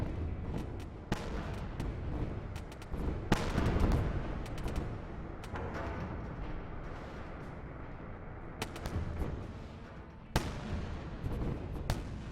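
Missiles being shot down in the space game Wayward Terran Frontier, a busy stretch of crackling point-defense fire with scattered sharp pops and muffled blasts over a low rumble, fairly faint throughout.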